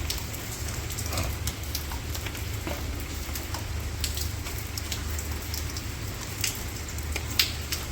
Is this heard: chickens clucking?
no